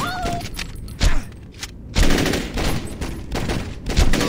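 Bursts of gunfire from the video game Saints Row 2 crack out in rapid, loud volleys with short gaps between them, dense and close, layered over game sounds.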